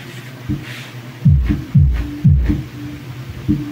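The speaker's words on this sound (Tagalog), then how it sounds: "Yan yung tunog ng sub natin." Dance music played at minimal volume through a subwoofer wired with a crossover to an active speaker, where deep, booming bass thumps pulse in a steady beat with faint upper sounds thinned out, no voices.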